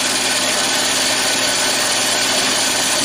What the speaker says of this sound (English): There's always that little bump when the weld in the blade runs by.